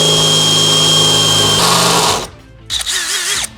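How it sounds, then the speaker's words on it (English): A power drill whines steadily at high speed drilling into van sheet metal on a GMC Savana, its pitch shifting midway, then cuts out; after a short pause it spins up briefly again. "Whenever you drill into a van, you want to make sure you have a drill stop"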